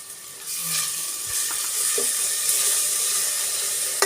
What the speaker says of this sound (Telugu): దీనిలోనే పచ్చిమిరపకాయల పేస్ట్ వేస్తున్నాను